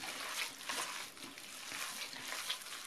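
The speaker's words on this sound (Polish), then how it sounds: "I teraz wołowinę z przyprawami i z wodą dokładnie wyrobię, żeby się wszystko fajnie wymieszało." Wet squishing and splattering of ground beef being kneaded by hand with spices and water for hunting sausage, a soft irregular mashing texture heard close up with no talk.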